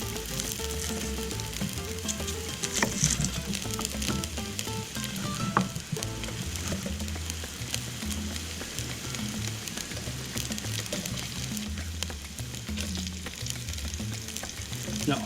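A small chopped Spanish onion sweats gently in a pan, making a continuous close sizzle with soft stirring clicks and scrapes, with no voices over it.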